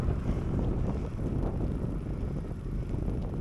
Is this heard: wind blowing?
yes